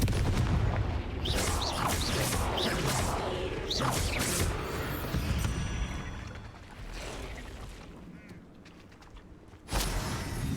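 Blasting-curse explosions from Confringo spells in the video game Hogwarts Legacy, with repeated booming blasts amid busy game noise, then a quieter stretch and a final sharp burst.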